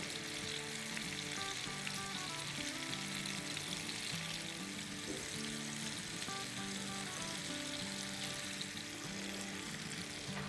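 Kebabs frying in a pan and being turned over, a dense, loud, unbroken sizzle of hot oil throughout, alone without voices.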